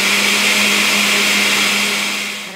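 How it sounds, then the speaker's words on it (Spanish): A blender whirs steadily and loudly, close up, as it blends a coquito mixture, with a constant motor drone that starts to wind down at the end. "Y ya solo nos queda batir unos 2-3 minutos."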